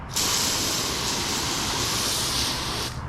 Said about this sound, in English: let me just go ahead and kind of move this over here and rinse my driveway here